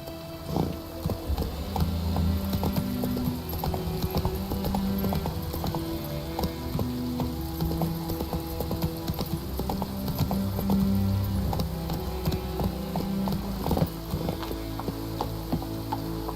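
Hooves clip-clop in a steady gallop for a horse in a video game, rhythmic and continuous throughout, with a faint clatter of tack and mechanical clicks layered beneath.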